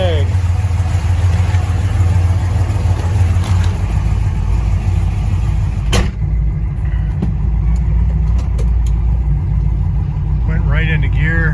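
A 1965 car's engine runs steadily as the car backs out of a garage down a steep ramp, a constant low rumble throughout with a few faint clicks and knocks, close and unbroken.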